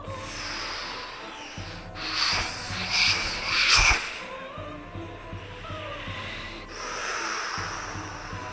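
Wet clay turns on a pottery wheel during a live demonstration, giving a rough, continuous rubbing and scraping with a few louder swells partway through, close and without voices.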